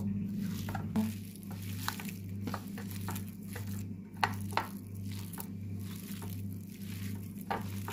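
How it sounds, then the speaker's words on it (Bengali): Chillies with coriander leaves and salt being hand-mixed into pakora batter: soft wet squishing and rubbing with small clicks, quiet and close, over a low steady background hum. "এখন এগুলোকে ভালো করে আমি মেখে নেব।"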